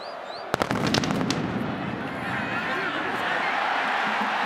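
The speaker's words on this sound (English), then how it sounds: "As the guns go off" Several sharp gun or fireworks blasts crack out in a stadium at the close of an Oklahoma vs. Oklahoma State college football game, a rapid burst of pops over a loud, steady crowd roar that carries on afterward.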